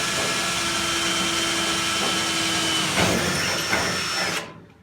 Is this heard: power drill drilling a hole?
yes